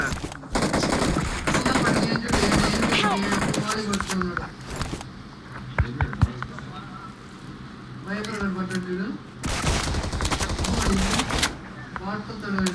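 Rapid gunfire from a mobile shooting video game, bursts of dense crackling shots repeating through the clip, mixed under excited talk from players.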